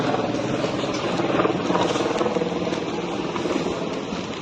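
A helicopter's rotor thrums steadily nearby on the Kedarnath route, a loud continuous chopping drone that holds throughout.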